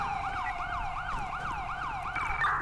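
An ambulance siren from a police roleplay video game, wailing in a steady repeating rise-and-fall pattern, loud and close and alone throughout.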